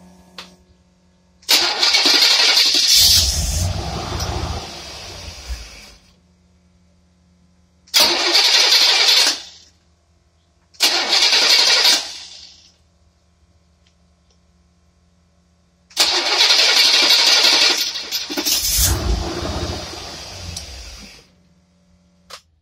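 Engine with a Carter AFB carburetor whose accelerator pump is not delivering fuel, cranking and catching in four loud bursts separated by silences, heard up close with no speech.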